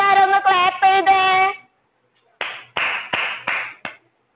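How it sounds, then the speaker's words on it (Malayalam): After a sustained sung or voiced tone, hands clap five times in a quick, sharp, evenly spaced series, close and fairly loud. "ഇഷ്ടമായ എല്ലാരും ഒന്ന് ക്ലാപ്പ് ചെയ്തേ."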